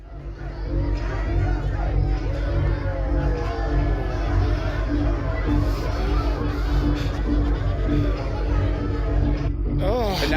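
Party crowd chatter from the video game As Dusk Falls, a steady dense babble of many indistinct voices filling a hallway of drunken partygoers, continuous and fairly loud throughout.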